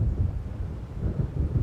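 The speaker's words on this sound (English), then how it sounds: "It seems there's a storm coming." Low rumbling thunder of an approaching storm in the video game Alan Wake, a steady deep roll with wind-like noise, fairly loud and continuous, with no voices.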